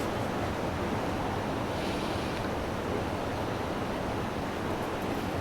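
River water of the Hampshire Avon rushing past a weir, a steady broadband roar that stays loud and unbroken throughout, with some wind noise and no voices.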